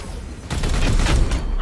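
A rapid, dense volley of gunfire in Warhammer 40,000: Chaos Gate - Daemonhunters starts abruptly after a short quiet moment and carries on as a loud, rumbling barrage.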